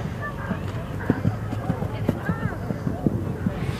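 Horses' hooves clip-clop in a steady, fairly close rhythm on a hard surface in North Wales, with occasional snorts or voices over a low background rumble.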